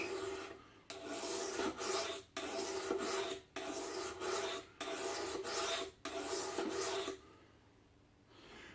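Knife sharpened on a stone, about seven quick, even rasping strokes in a steady rhythm, close and fairly quiet, then a short pause.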